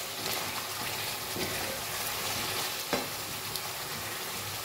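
Fried new potatoes stir-fried into a cooked-down spice masala in a pan for a potato and green pea dum: continuous close sizzling with scraping stir strokes and a couple of sharp clacks, no voices.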